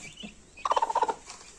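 A brooding hen sitting on a clutch of eggs gives a short burst of soft, rapid, evenly pulsed clucks lasting about half a second, close and fairly quiet against a still background.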